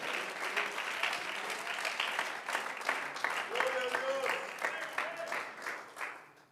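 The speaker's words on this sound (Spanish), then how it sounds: "Uno agradecido con Él puede darle un aplauso de amor" Church congregation applauding during a sermon, a sustained fairly distant wash of many hands clapping with murmured voices and occasional tonal calls underneath, fading out at the end.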